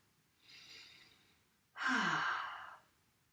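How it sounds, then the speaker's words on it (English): Exaggerated yoga breathing in a class: a soft drawn-in breath followed by a louder, forceful whooshing exhale, close and clear with no talk. "I'm exaggerating the breathing."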